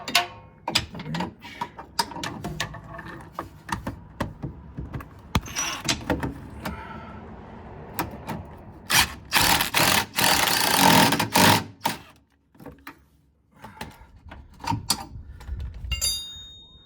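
Wrench tightening bolts, heard as irregular metallic clicks and rattling with a longer, louder burst of ratcheting mechanism noise near the middle, close by.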